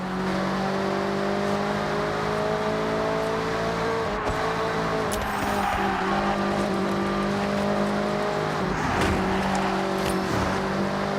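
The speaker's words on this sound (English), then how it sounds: "Get ready to blast those engines." Car engines roar steadily in the Forza Horizon racing game set in Japan, loud and continuous throughout, with sustained revving tones and small shifts in pitch as the cars race.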